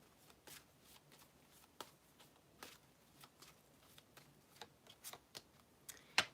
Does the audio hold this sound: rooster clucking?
no